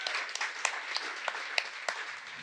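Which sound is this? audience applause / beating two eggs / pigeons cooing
audience applause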